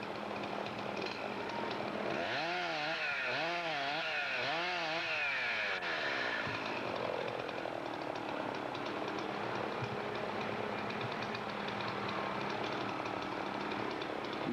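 A chainsaw revs and bogs in repeated surges while a hardwood tree hung up in the canopy is cut and pushed down during hand-cutting logging in northern Maine, with steady woodland background noise throughout.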